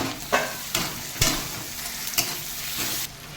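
Tomatoes and freshwater snails stir-fried in spices in a pan for a Bengali curry, giving a steady close sizzle broken by several sharp scraping stirs at irregular intervals, with no talking.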